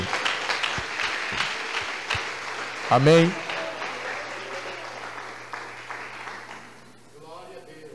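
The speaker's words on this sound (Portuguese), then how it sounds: "dá uma salva de palmas bem alegre para Jesus" A church congregation claps in steady applause for several seconds, with a voice speaking briefly over it. The clapping fades toward the end.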